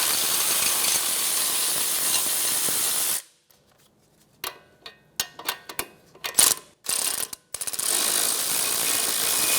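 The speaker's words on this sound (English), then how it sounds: "Remove your caliper bracket bolts using a" A ratchet with a 17mm socket working on brake caliper bracket bolts of a 2012-2016 Subaru Impreza: a steady spray-like hiss, then a sudden silence, then a series of sharp close clicking bursts before the hiss returns.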